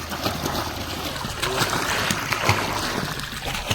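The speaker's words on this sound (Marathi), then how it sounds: "अजून जरा भरायला चालू केलंय स्विमिंग पूल" Water running and splashing as a swimming pool is topped up outdoors, a steady close wash of splashes and trickling with scattered louder spatters throughout.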